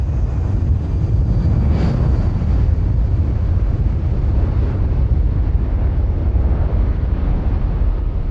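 An RAF C-17 from 99 Squadron spools up its four big jet engines of 40,000 pounds of thrust each on the takeoff run at RAF Fairford, a loud, steady, roaring rumble with a windy hiss.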